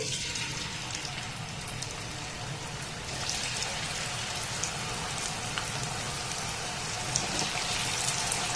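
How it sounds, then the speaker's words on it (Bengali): Palm fruit pitha cakes deep-frying in hot oil over a low to medium gas flame give a steady, dense crackling sizzle, like rain, that runs evenly throughout and grows slightly louder after a few seconds. "এবার যে পিঠেগুলোকে আমি বানালাম সেটাই তেলের মধ্যে দিয়ে ভেজে নেব"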